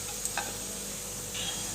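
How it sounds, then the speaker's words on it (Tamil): Grated coconut sizzles softly in a pan with a steady hiss, and a few light scrapes of a utensil stir it. "அது ஒரு 10 நிமிஷம் போல் வறுத்துக்கலாம்."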